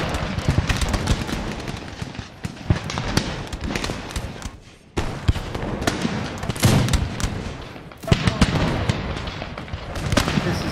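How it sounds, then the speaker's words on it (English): Musket volleys roll across the battlefield in Empire Total War, a dense, loud barrage of overlapping gunshots and booming crackle with a short lull midway before the firing surges again. "Open fire! Fire, you bastards!"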